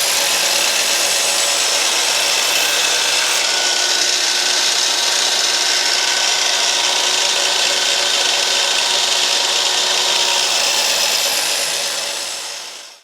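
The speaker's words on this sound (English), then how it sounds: "So when you're doing this type of cut with the miter saw, you need to have a piece of scrap material between the fence and your workpiece." A miter saw slices through a scrap piece of 4x4 wood, a loud sustained whirring grind held for over ten seconds before the blade winds down, close by with no voices.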